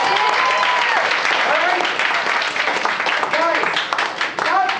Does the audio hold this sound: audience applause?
yes